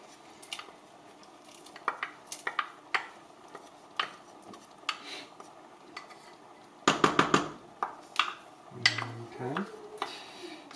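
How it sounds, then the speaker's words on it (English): Spoon scraping and clinking against a pot as one large chopped onion is stirred into Cincinnati chili, a string of sharp metallic taps with a brief louder clatter, under a speaking voice. "And then our onion. 1 large onion. Stir that in."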